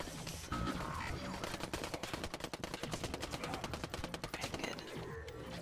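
Turrets firing in a zombie video game, a dense, sustained volley of rapid gunfire crackling loudly and evenly for several seconds with no talk over it.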